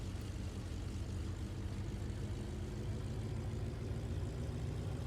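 A BF 108 Taifun propeller plane in a flight simulator taxis on grass, its engine holding a steady, low droning hum with no pauses.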